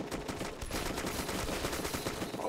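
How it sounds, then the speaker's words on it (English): Gunfire in the military game Arma 2 rattles on steadily in rapid bursts like a machine gun, somewhat distant and muffled, with no talk over it. "who's shooting at me with a bad gun?"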